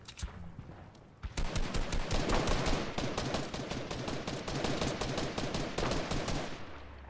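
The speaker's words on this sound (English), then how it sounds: "Keep shooting that one on the left." Rapid, sustained gunfire from a Fortnite match, dense overlapping bursts of automatic shots that start abruptly and keep going loud and close for several seconds.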